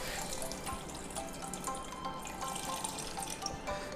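Water trickling and dripping as grated radish and carrot are squeezed by hand to press out their juice, a continuous close, wet splashing with small drips, no talking.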